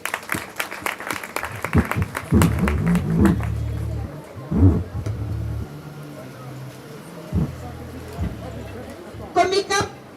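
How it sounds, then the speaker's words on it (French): Audience applause breaks out at a diploma and certificate ceremony, rising in several bursts between stretches of a voice speaking over a microphone. "sous vos applaudissements, s'il vous plaît"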